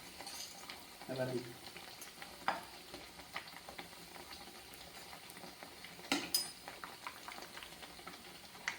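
Rava vada deep-frying in hot oil, a soft continuous bubbling and crackle with occasional spoon or utensil clinks, fairly quiet and close, no voices.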